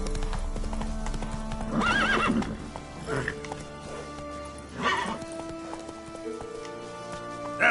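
Roach the horse gallops with rapid, loud clopping hooves and snorts, while a voice urges it on over the pounding rhythm.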